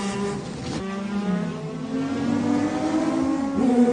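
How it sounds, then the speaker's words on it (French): A Kudzu Mazda race car pulls out of the pits during the 1995 24 Hours of Le Mans, its engine rising and shifting through revs with a steady, moderately loud drone. "alors que la Kuzdou Mazda de Terada, Donning et Fréon quitte les stands."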